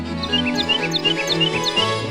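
Several small birds chirp and tweet in quick, repeated high calls over a steady musical bed in a bird-feeding store advert, bright and close, without speech.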